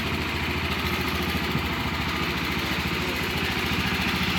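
An engine runs steadily in the background, a continuous rough, buzzing idle with a fast chugging rhythm and no voices.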